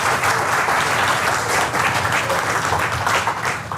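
Loud, sustained audience applause at a health talk, a dense continuous wash of many hands clapping close by throughout, with no talking over it.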